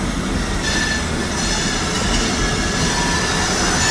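A BNSF freight train rolls past close by with a loud, continuous rumble and a high, sustained squeal from its wheels on the rails.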